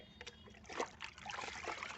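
Water trickles and splashes softly in a few brief spurts, close by and quiet.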